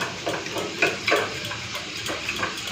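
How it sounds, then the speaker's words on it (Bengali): A small splash of water poured into a bowl of ground spice mix to make a paste for a potato and paneer curry, heard as a brief, soft trickle with light stirring, close by and without talk. "সামান্য অল্প জল দিচ্ছি"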